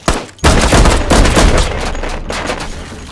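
Rapid bursts of loud gunfire crack out in the VR shooter game H3VR, a dense fusillade of overlapping shots that starts abruptly and rolls on with echoing tails.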